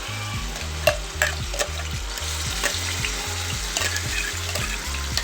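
Coarsely crushed onion, ginger and garlic fry in hot oil for a crab curry, with loud, constant spattering over a rhythmic music bed and a few sharp stirring knocks.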